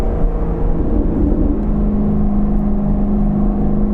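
Chevrolet Corvette C7 Grand Sport running steadily with a low, rumbling engine drone, close and loud, holding a fairly even pitch without distinct rev spikes.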